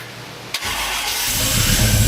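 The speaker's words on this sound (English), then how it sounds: "I finished the installation of the MSD Atomic EFI, checked for fuel leaks, and it fired right up." A car engine fitted with an MSD Atomic EFI throttle-body fuel injection cranks briefly, fires up and settles into a loud, steady idle that builds slightly.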